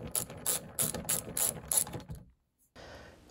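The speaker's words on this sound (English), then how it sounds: "I can get those screws in." Milwaukee screwdriver set to ratchet mode driving screws, giving six quick, evenly paced bursts of sharp ratcheting clicks up close, then a short silence and faint handling noise.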